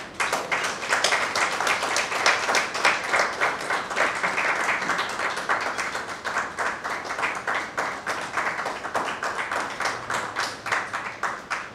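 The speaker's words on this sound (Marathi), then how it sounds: "आपण सर्वांनी पुस्तक प्रकाशन सुरू असताना टाळ्यांचा गजर करावा" An audience at a book launch applauds steadily for nearly twelve seconds, a close, even patter of many hands with no voices over it.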